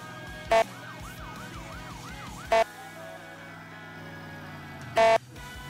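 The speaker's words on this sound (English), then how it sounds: "The sirens are legitimately shit." A wailing emergency vehicle siren sweeps up and down in the background under steady engine rumble, interrupted by three short loud bursts of noise, during a wildfire unit response in North Yorkshire.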